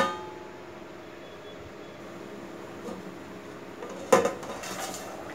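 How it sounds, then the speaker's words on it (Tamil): A single sharp metallic clank of a lid set onto a pot of dried fish curry, brief and close, over a steady low kitchen hum. "மூடி வச்சு கொதிக்க விடலாம்"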